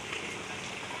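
Heavy rain pours steadily, a dense, loud, even hiss of drops on surfaces with no breaks.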